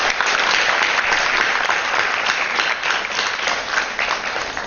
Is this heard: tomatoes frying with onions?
no